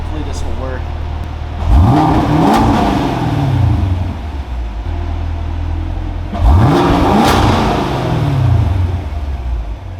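A car fitted with a Valvetronic Designs exhaust revs twice with the valves closed, each blip swelling quickly and then falling away, loud and close, with a steady idle rumbling between the two revs.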